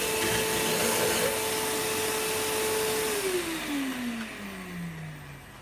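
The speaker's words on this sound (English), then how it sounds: "I'm going to get the vacuum on that and clean the inside out." A vacuum cleaner runs steadily and loud, used to clean out the inside of a piece being coloured with Hampshire Sheen intrinsic colours, then winds down with a falling motor whine near the end.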